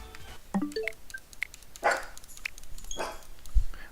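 Dogs bark and yip in short, scattered bursts with a few whimpering notes, fairly close and loud, over a quiet background.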